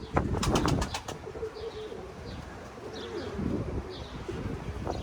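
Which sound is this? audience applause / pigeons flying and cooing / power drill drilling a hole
pigeons flying and cooing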